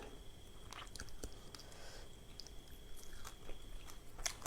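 Boiled frog skin is crunched and chewed up close, giving quiet repeated crisp bites and mastication clicks with no talking.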